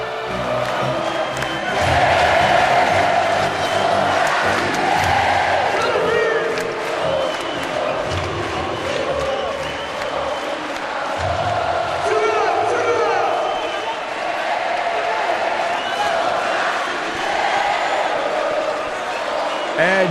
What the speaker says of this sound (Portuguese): É de arrepiar o Maracanãzinho de pé, cantando, comemorando o ouro do vôlei.